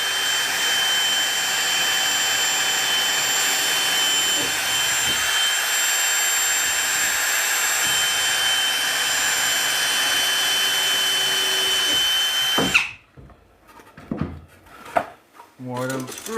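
A power drill bores a couple of holes into reclaimed wood for a pig feeder trough, running loud and steady at close range for about twelve seconds before stopping, followed by a few short knocks and handling sounds.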